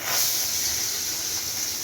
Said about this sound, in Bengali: মাছ ভাজছি। পাবদা মাছ ভীষণ ফোটে, প্রচন্ড ফোটে।